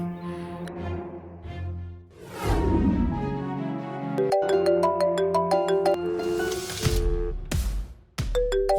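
A mobile phone rings with an incoming call, a melodic ringtone chiming loudly and repeatedly through the whole stretch, layered over background music in a Tamil TV drama scene.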